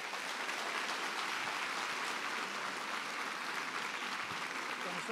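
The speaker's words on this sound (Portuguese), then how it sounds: "Receba o pastor Davi com uma salva de palmas." A church congregation at an evening service applauds, a dense, steady wash of clapping from many hands filling the room at even loudness throughout.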